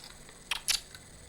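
An old computer component snaps into place in a mock PC case, two quick faint plastic clicks in a row with a softer tick after, in a quiet room.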